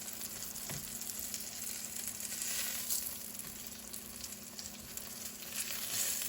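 Green tomato slices sizzle in a pan of oil, a steady, dense frying hiss with light crackle that holds at an even level throughout, with no voices.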